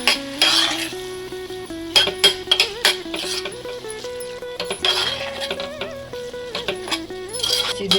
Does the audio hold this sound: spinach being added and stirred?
yes